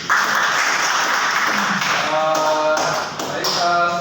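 A roomful of people at a university lecture clapping and tapping in a dense, continuous patter, with some voices mixed in and a few rhythmic accents toward the end.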